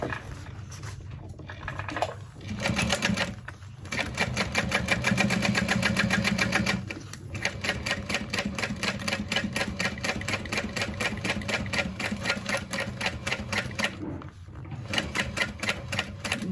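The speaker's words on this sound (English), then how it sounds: "I'm just gonna top stitch. I am going to increase my stitch length to a 5 as I'm top stitching all the way around" A sewing machine top stitching around a mini backpack at a long stitch length runs in rapid, even mechanical bursts, broken by a few short pauses, loud and close.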